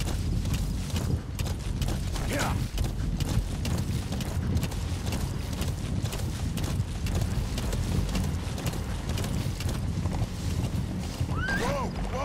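Horse hooves gallop in Metal Gear Solid V: The Phantom Pain, a continuous loud pounding rhythm under a dense game soundscape with a whinny-like cry, and a voice briefly calls out over it.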